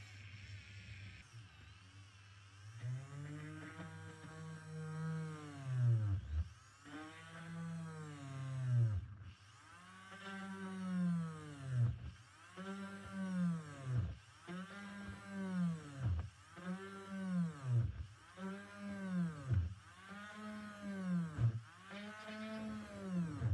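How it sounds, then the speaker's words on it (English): A small rotary drill bores a series of holes around a template on the deck of a 1/200 scale model ship, sounding as a steady run of short whining bursts, quiet and close. "So I'll just chain drill around the shape and then trim the excess off with a knife"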